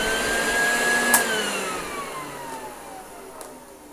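Hoover vacuum cleaner motor running steady and close, a loud continuous whir whose pitch dips slightly and holds, with no voices.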